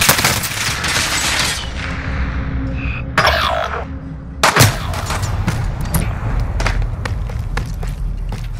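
Gunfire in Call of Duty Warzone, a rapid burst of automatic shots opening loud, a lull with scattered thuds, then a heavy impact and renewed close-range volleys of sharp cracks continuing to the end.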